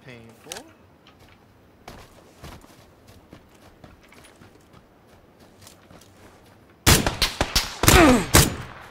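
Sharp gunshot cracks in a PUBG-style battle royale match, a few quiet scattered reports early, then a loud cluster of close shots near the end over player chatter.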